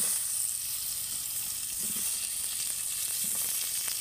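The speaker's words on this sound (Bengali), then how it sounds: "টমেটোগুলো তেলের মধ্যে দিয়ে দেব" Two small chopped tomatoes sizzling in hot oil, a continuous soft frying hiss close by, with a couple of faint stirring knocks and no speech.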